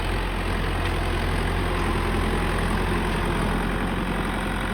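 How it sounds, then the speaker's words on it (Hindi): A tractor engine drones steadily while ploughing a field, a loud, continuous low rumble with no breaks and no voices. "ट्रैक्टर के मालिक जो हैं ट्रैक्टर पे बैठ चुके हैं, हल चला रहे हैं"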